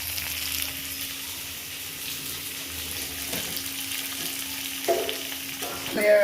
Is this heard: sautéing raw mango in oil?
yes